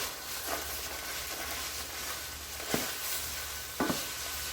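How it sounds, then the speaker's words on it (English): Ground meat for beer chili browning in a pan, a steady broad sizzle with a couple of sharp scrapes from a utensil. "the meat is about browned here"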